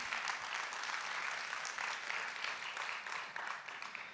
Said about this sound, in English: Y'all give Will a big hand clap.